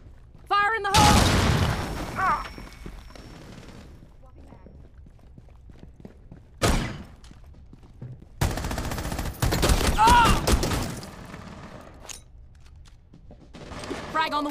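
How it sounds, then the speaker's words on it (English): Breach charge explosions in Rainbow Six Siege Mobile go off as several sharp loud blasts with rumbling decay, separated by quieter stretches of footsteps and in-game voices. "Charge placed and ready to blow."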